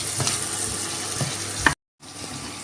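Ingredients for a chammanthi, with tamarind and salt added, sizzle loudly as they are stirred and fried in a pan toward golden brown. The close, steady frying hiss carries stirring scrapes and briefly cuts out near the end.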